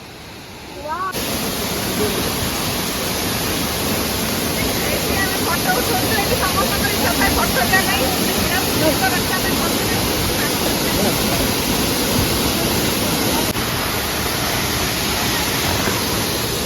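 A waterfall roars as a steady broadband rush of falling water, loud and close, with voices talking faintly beneath it.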